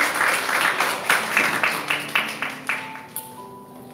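Audience applause welcoming a speaker at a lecture, with a full burst of clapping that fades into a few separate, slowing claps near the end.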